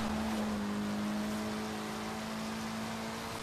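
A Ford Focus RS drifting in Forza Horizon 3 gives a steady, sustained engine drone with a strong constant pitch, loud and unbroken throughout with no other sounds.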